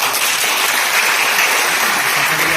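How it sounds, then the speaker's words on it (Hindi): A crowd at a Gondwana gathering in Narsinghpur district claps loudly and steadily throughout, a dense wash of applause that fills the space without pause. "हमारे तमाम गुरुओं के लिए भी मैं जोरदार ताली आपसे"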